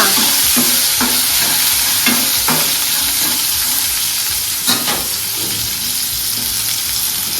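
Cumin seeds sizzling hard in hot oil, a loud continuous crackling fry with occasional scraping stirs, no voices.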